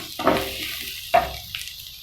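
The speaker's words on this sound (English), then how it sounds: "as the onions and the peppers and the chilies are cooking" Onions, peppers and chilies frying in a pan, a soft sizzle under a few brief clinks and stirring scrapes of a utensil against the pan, with quiet gaps between the louder knocks.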